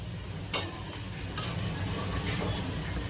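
Moong dal frying in oil for Kathiawadi-style namkeen, its foaming now settled, makes a close, even sizzle with a sharp crackle near the start and quieter spits afterward.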